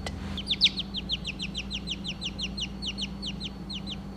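Baby quail chicks give a rapid, regular run of high thin chirps, close and steady after a brief bump at the start, over a low background hum.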